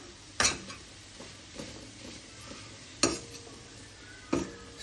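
Grated coconut being stirred and fried in a pan on the stove for coconut laddu, faint background with a few sharp clinks of a utensil against the pan spaced about a second or more apart.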